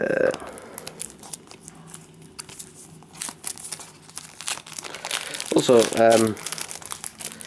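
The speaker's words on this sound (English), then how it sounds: "I might as well unwrap them on camera" Plastic wrap being torn and peeled off Doctor Who DVDs, close crinkling and crackling that grows louder toward the end, with a person speaking briefly over it.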